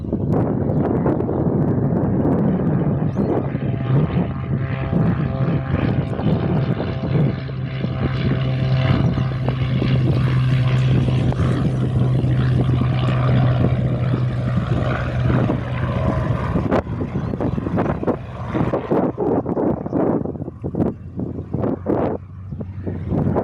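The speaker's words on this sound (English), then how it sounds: "Piper on the touch and go runway is now departing." A Piper propeller plane departs from a touch-and-go runway on a windy day, its engine drone loud and steady for about seventeen seconds before fading amid gusty wind noise on the microphone.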